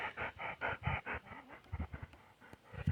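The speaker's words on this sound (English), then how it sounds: "Don't let that panting fool you." A dog pants in quick, steady bursts close by, with a few faint whimpers between breaths, having just come outside from air conditioning.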